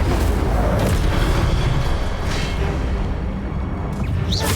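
A fire spell blasts out in Hogwarts Legacy on Nintendo Switch, a loud, sustained roaring boom that fills the whole stretch and ends with a faint whoosh.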